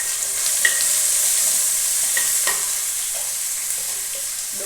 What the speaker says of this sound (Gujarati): જીરું સતળી જાય તે પછી ડુંગળી નાખીને બસ વઘાર ડુંગળી સાંતળી લેવાની